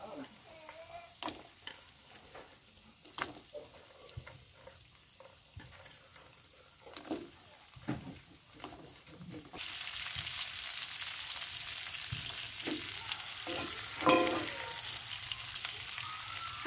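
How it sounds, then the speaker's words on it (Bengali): Potatoes drop into hot mustard oil with nigella seeds in a wok for a sponge gourd dish. A few soft utensil clinks come first, then a sudden steady loud sizzle with stirring scrapes. "আলুগুলো একটু লাল করে ভেজে নেব।"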